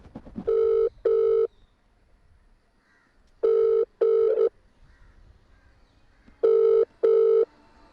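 A phone ringback tone sounds in three paired bursts, evenly spaced, with no answer in between.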